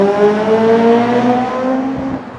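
A mapped Honda Civic Type R EP3 with a 3-inch exhaust accelerates hard nearby, its engine note climbing in steady rising harmonics for over two seconds, loud and continuous with no talking.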